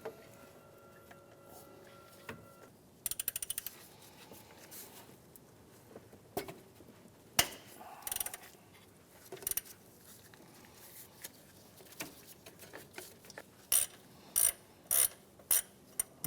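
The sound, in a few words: ratchet loosening top alternator bolt on Honda Element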